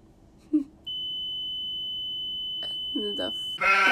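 A broken alarm emits a steady, continuous high-pitched electronic tone lasting several seconds, loud and close, with brief bursts of speech-like sounds toward the end.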